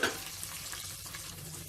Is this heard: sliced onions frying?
yes